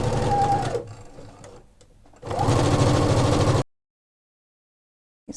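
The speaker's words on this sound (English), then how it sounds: "I'm going to sew it first at 1/4 of an inch" A sewing machine runs a shoulder seam at a quarter inch in two loud close bursts, a steady whirring hum broken by a short slower pause, then stops into silence.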